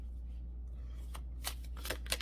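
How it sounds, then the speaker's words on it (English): Large oracle cards are shuffled by hand indoors, a quiet hum giving way to a few soft riffling bursts near the end. "Oh, these cards are massive to shuffle."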